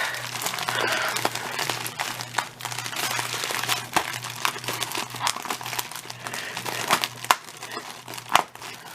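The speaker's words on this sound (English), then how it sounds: "We'll go ahead and rip into this." Cardboard and paper packaging of a reused shipping box is ripped and crinkled open, close crackling tears and scattered sharp snaps over a low steady hum, no speech.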